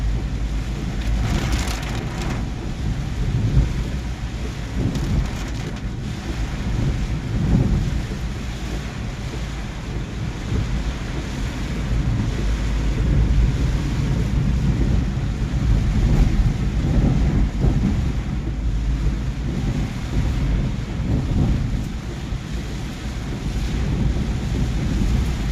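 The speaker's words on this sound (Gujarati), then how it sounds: "ફૂલ વરસાદ છે, બધા રોડ ઉપર બી પાણી નથી સમાતું, એટલો બધો વરસાદ છે ગામડે." Heavy rain falls on a village in Bhiloda, a dense, continuous hiss with gusty rushing swells, loud and close and unbroken, with nobody talking.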